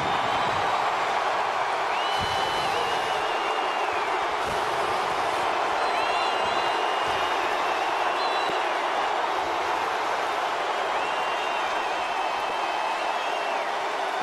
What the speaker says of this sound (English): Sellout crowd on hand.